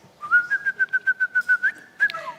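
A person whistles a bird imitation: about a dozen quick, even pulses on one steady pitch, then a short final chirp, close and clear with no talking.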